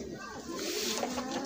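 Teddy pigeon cooing softly at close range, a short low throaty coo with a person talking over it.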